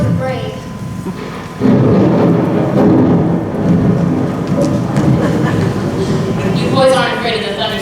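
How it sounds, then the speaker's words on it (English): A thunderstorm rumbles with heavy, steady rain, the thunder swelling suddenly and rolling on loudly while people talk over it indoors. "You boys aren't afraid of the thunderstorm too,"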